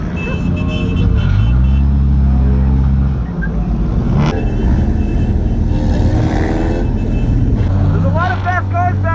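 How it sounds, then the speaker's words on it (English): Fast race cars roar past during a flag pole race, engines revving in a steady loud drone with rising and falling pitch, while people talk over the engine noise. "There's a lot of fast cars back here."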